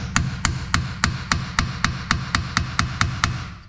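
A hammer taps a 1957 Volkswagen Bug wheel seal plate in a home garage, about a dozen sharp metallic strikes in a steady, even rhythm, close and loud.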